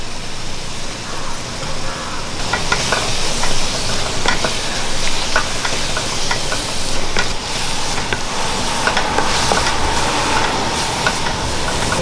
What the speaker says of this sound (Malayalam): ഇഞ്ചിയും വെളുത്തുള്ളി കരിയാപ്പലയും കൂടി ഇട്ട് കൊടുക്കും